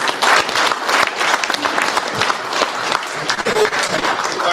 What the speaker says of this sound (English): round of applause as he goes